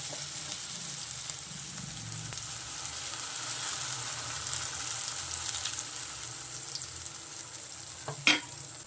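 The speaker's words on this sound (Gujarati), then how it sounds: "આના રાઈ નાખી દીધી, થોડાક તલ નાખીશું।" Mustard seeds and sesame seeds sizzle steadily in hot oil for Gujarati handvo, a continuous close fry with a sharp crackle near the end.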